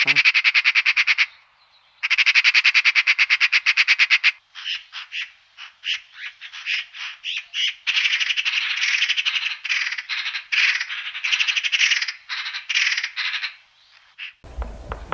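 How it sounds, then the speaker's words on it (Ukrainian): A magpie gives a loud, rapid rattling chatter in several long bursts with short gaps between them, close and clear, no other voices. "сорока."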